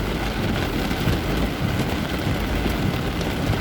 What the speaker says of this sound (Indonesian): Jakarta hujan deras.